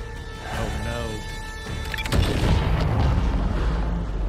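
A whole building blows up in Marvel's Spider-Man 2, a sudden loud boom breaking in midway and rolling on as a dense, sustained rumble of collapsing debris over game music and effects.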